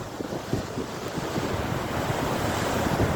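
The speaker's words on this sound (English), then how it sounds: "The sea's a bit rough." Rough sea waves breaking on Colwyn Bay beach on a rainy day, a loud continuous surf roar with strong wind buffeting the microphone.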